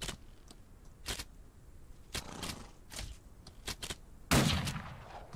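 Scattered gunshots crack out as bandits open fire in the Western game Outlaws of the Old West, with irregular single reports spread across several seconds and one heavier blast near the end.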